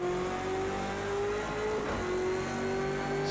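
A Ford Falcon V8 race car howls at full throttle and maximum speed through a corner at Bathurst in Project Cars 2, its engine note steady and loud, rising slightly without a break.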